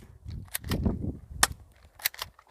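A silenced Canik pistol fires at a bug, giving a few sharp, close cracks spread across a couple of seconds, with low rustling and handling noise between the shots.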